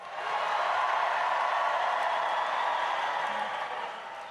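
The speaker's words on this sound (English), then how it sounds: "please join me in giving Zohran, our friend, a round of applause" A crowd of supporters at a New York City mayoral election victory event applauds in a steady, even wash of clapping that holds for a few seconds before fading slightly.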